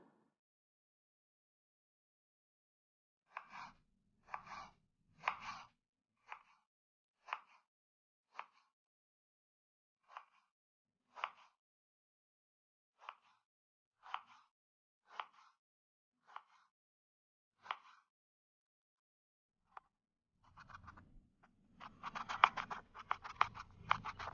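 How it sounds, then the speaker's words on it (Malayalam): Raw mango is chopped into small pieces for pickle, a string of crisp, close knife strikes on a board in slow irregular rhythm, followed by a denser burst of rapid chopping near the end. "ഈ മാങ്ങയെ നമുക്ക് ചെറിയ കഷ്ണങ്ങളാക്കിയിട്ട് അരിഞ്ഞെടുക്കാം"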